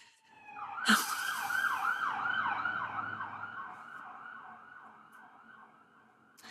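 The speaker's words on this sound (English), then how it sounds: "these sirens are just really bringing the drama" A loud wailing siren sweeps up and down rapidly after a sharp burst, nearby and then slowly fading as the vehicle moves off.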